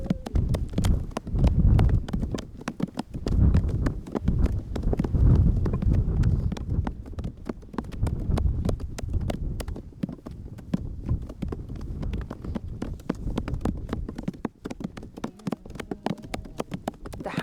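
Many hammers pound old chalk flat on a hillside as a large group works together, producing dense, continuous clattering thuds that resemble a crowd of horses' hooves, loud and steady throughout.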